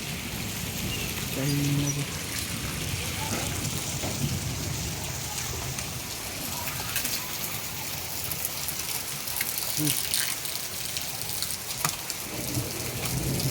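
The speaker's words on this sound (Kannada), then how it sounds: "ಫುಲ್ ಸ್ಲೋ ಆಯ್ತು ಮಳೆ." Rain falls steadily after a hailstorm in Vijayapur, north Karnataka, a soft, even patter spread across the whole scene with no clear slackening, faint and continuous with no voices.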